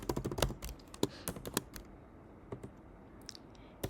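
Code typed on a computer keyboard, a quick run of close key clicks at first, then slower scattered taps trailing off, with no talking.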